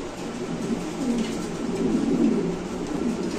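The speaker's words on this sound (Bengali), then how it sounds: "দেখেন কবুতর ডাক দেখেন মাশাআল্লাহ এত সুন্দর কবুতরটা।" A white King pigeon coos in a low continuous rolling murmur, close and fairly loud, over steady background noise with no talking.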